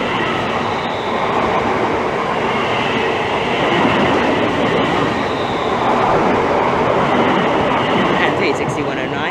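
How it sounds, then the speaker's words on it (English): Greater Anglia Class 360 electric train passing through Bethnal Green station, a loud continuous rumbling roar of wheels and motors close by, sustained throughout with steady rail noise. "Now passing by is a Greater Anglia 360."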